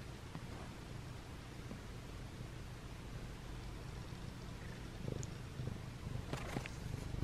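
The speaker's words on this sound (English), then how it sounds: "Do you hear Simba purring?" A cat purrs in a quiet, steady low rumble, continuous, with faint rustling and a few soft clicks near the end.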